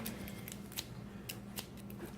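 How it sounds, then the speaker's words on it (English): Scissors cutting open a cardboard box during an unboxing: quiet, steady scraping with a few sharper snips and clicks, close by, over low background hum. "Got scissors here, so I can open up the box."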